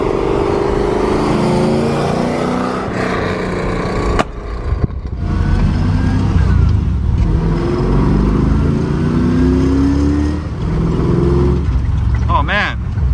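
A 1969 Corvette restomod with a 575HP LS7 V8 drives with the window down, its deep engine rumble rising and falling through revs and gear changes, loud and close, while people talk over it.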